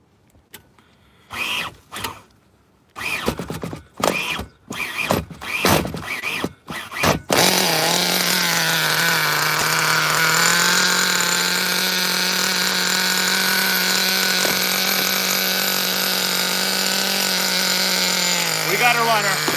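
A nitro engine on a fully caged T-Maxx RC truck sputters in short bursts with voices around it, then catches and screams continuously at a high, steady pitch for the rest of the time.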